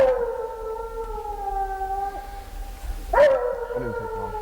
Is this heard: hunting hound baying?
yes